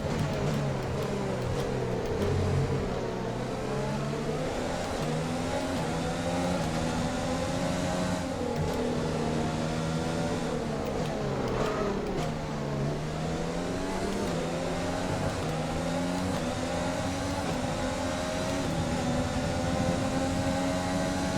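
Formula 1 race car engine in the F1 2020 game at Zandvoort, a loud, steady high-pitched whine that rises and falls with revs and gear changes throughout, with no talk over it.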